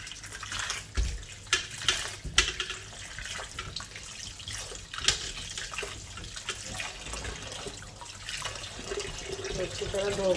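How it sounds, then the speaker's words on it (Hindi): Potatoes are rinsed under running water in a home kitchen sink, a steady hiss of flowing water broken by splashes and knocks as they are handled and turned. "पहले 2-3 पानी से धोऊंगी।"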